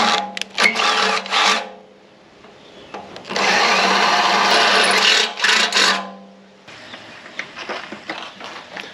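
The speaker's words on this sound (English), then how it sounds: "I'm just going to essentially grind the sheet metal off and grind it flat." An angle grinder grinding sheet metal off a Classic Mini subframe during a 1275 A+ build, with loud sustained grinding bursts, the longest lasting about three seconds, separated by pauses and some clanking handling noise.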